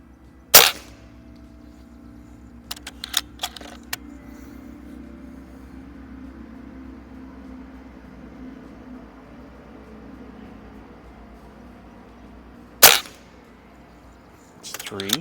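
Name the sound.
Beeman underlever air rifle shots in backyard plinking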